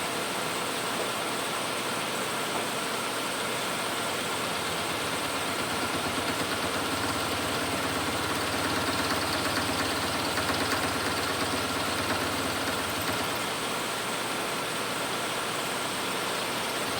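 Machine taking a skimming cut at 500 RPM with a half-inch pitch, a steady, even, broadband mechanical drone that continues without a break throughout, moderately loud and close.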